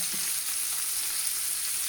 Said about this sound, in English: they're sizzling away in that pan